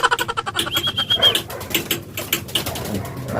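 Domestic pigeons being let out of their loft in the morning, with soft cooing, chirps and bursts of wing flapping close by, a thin high whistle rising briefly above the busy fluttering.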